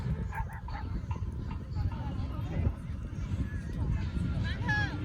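Several dogs of many breeds bark and yip at a busy evening dog gathering in Chengdu, with steady crowd chatter and people talking throughout.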